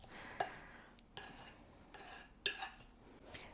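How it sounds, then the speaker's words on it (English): A fork mashes butter in a bowl for cinnamon roll filling, giving several quiet, spaced metallic clinks and scrapes against the dish in close, soft surroundings. "I'm just going to mash it up with a fork"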